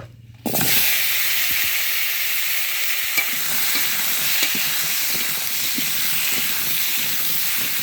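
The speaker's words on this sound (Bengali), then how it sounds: "এবার হচ্ছে এই আলুগুলো ভাজি করে নেব" Potatoes frying in oil left over from frying fish, a steady broadband sizzle that starts abruptly after a brief quiet moment and continues loudly throughout, with occasional faint clinks and stirring sounds.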